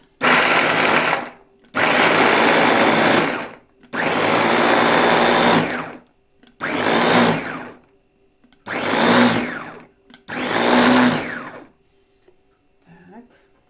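An electric chopper grinds garlic in six loud, whirring bursts of one to two seconds each, with short silent pauses between them and a faint clatter at the end.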